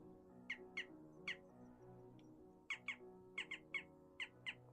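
Jackdaw giving short, sharp, squeaky calls, about a dozen in two clusters with a pause between, fairly faint and close, over a low background hum.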